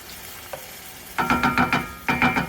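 Sausage and potato hash sizzling in a pan, with a quiet stretch and a faint tap before loud bursts of crackling sizzle come in pulses as the food is stirred.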